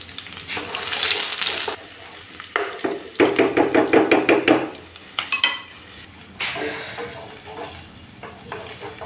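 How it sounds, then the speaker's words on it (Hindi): Chopped onion browning in a hot frying pan in a home kitchen late at night, sizzling loudly with bursts of spatula stirring and scraping, pausing and resuming. "प्याज को हम ब्राउन कर रहे हैं"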